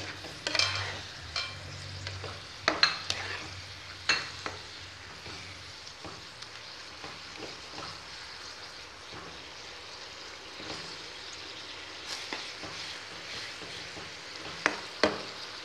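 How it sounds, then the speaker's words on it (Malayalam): A curry with fried onion and okra simmers quietly in a pot. Its soft bubbling is broken by intermittent spoon clacks and scrapes as it is stirred, and no one talks. "ഇനി ഇത് നല്ല പോലെ അങ്ങ് തിളയ്ക്കണം."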